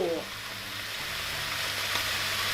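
Chicken sizzling steadily in a frying pan, a continuous crackling hiss close by with a faint low hum underneath.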